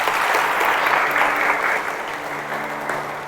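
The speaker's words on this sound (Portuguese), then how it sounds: "Vamos dar uma salva de palmas para Jesus." Church congregation applause after a sermon, a steady close wash of many hands clapping at fairly high level, continuous through the short stretch with only slight dips and no speech over it.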